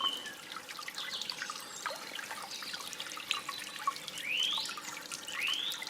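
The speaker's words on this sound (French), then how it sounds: "plus le bruit de l'eau est présent" Water trickles steadily in a Paris fountain, a soft continuous gurgle and patter heard up close with no voices.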